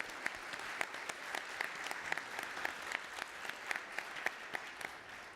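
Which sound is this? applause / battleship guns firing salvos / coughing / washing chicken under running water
applause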